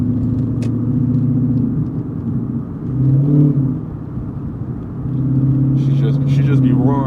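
Inside a moving Lexus IS-F, the engine holds a steady, deep hum, swells briefly into a louder roar midway, then settles back to a cruising drone.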